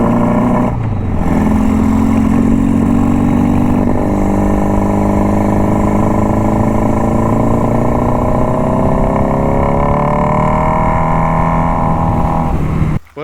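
The engine of a 1975 Honda Goldwing motorcycle revs loud and close, its pitch climbing steadily over more than ten seconds with no one talking, then cutting off abruptly at the end.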